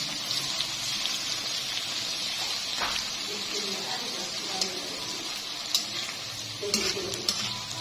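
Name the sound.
garlic ginger paste frying with mutton, stirred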